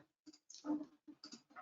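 Computer mouse clicks sound in short separate bursts, several in a row with small gaps, close and fairly crisp, with no talk over them.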